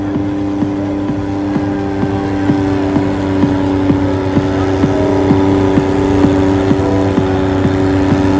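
A garden pulling tractor's heavy engine roars steadily at high load during a tractor pulling event, a deep droning rumble with a faint regular ticking beat running through it.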